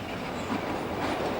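A New York subway train runs along the world's longest subway ride, producing a steady rumbling roar of wheels on rail. It is close and continuous, with a brief clack at the end.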